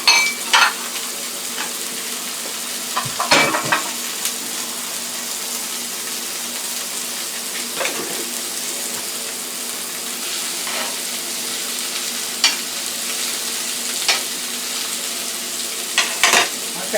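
Steak, peppers and onions laid on a hot outdoor grill give a steady, close hiss of sizzling, with a few sharp clanks and pops of handling scattered across it and no talking.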